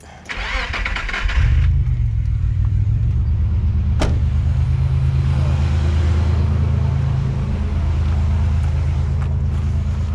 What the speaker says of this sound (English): Just thought I'd try and get the thing running. Fire up the old ute.